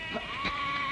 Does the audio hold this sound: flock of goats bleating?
yes